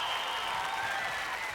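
An American Gladiators arena audience cheering and clapping: a steady wash of crowd applause and cheers, fairly loud and unbroken for the whole moment.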